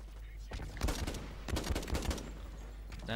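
Combat rifle gunfire in the video game Blacklight Retribution, heard as a couple of short bursts of rapid shots with a dense background of game noise, close and moderately loud.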